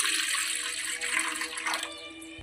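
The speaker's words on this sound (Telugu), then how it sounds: "అందులో కొన్ని వాటర్ వేసుకోవాలి." Water pours steadily into a thick-bottomed pot while idli is being made, a continuous close splashing and rushing stream that carries on without a break and with no talking.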